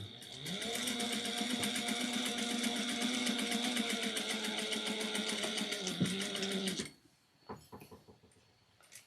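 A sewing machine top stitching a shoulder bag runs in one fast, even, buzzing stretch for most of the time, then stops, leaving a few faint clicks and handling sounds.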